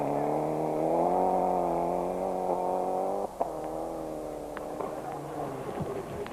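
Mitsubishi Lancer Evo rally car at Cape Rally 2006 on a slippery stage, its engine a steady loud droning hum with strong harmonics, dipping briefly after a sharp knock around midway then continuing near and sustained.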